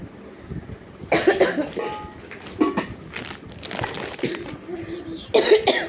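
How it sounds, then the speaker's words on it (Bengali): A person coughs in several harsh, separate bursts over a few seconds, close to the microphone, with quiet background sound between the coughs. "কাশি কিন্তু হয়েই যাচ্ছে"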